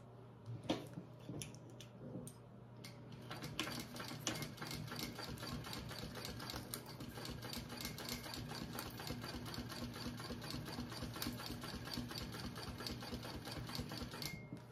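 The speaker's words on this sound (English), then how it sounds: "I'm going to go ahead and top stitch along this top edge" A sewing machine top stitches along the top edge of a bag pocket, its needle running in a fast, steady, even clatter that starts after a few quiet seconds and continues to the end at a modest, close level.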